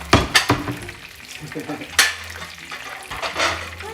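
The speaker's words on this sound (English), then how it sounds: "You're watching the tacos cooking" Tacos frying in a pan, with sizzling and sharp clatters of a utensil scraping and knocking against the pan, close and busy, with faint voices in the background.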